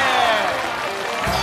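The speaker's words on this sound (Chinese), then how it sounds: "让我们掌声欢迎九条命全体" Applause and crowd noise from a live comedy-show audience greet a sketch troupe on stage at a final, a dense steady wash of clapping filling the whole moment.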